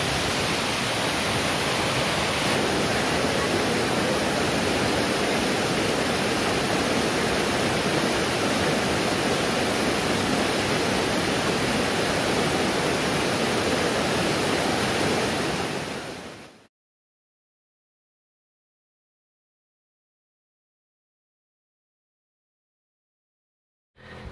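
Steady, loud rushing water from the Lembah Karaeng waterfall fills the first sixteen seconds without a break, then the sound cuts to silence.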